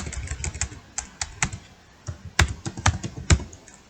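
Quick irregular keystrokes clatter on a computer keyboard, close and fairly quiet, with bursts of taps and a few harder key presses standing out, no talking.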